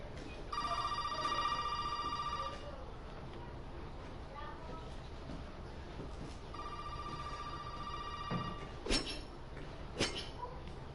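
A telephone in Resident Evil 7 rings twice, each ring a long electronic trill with a gap between, under faint ambience with a few knocks near the end.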